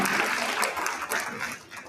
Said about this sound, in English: Big round of applause, congratulations.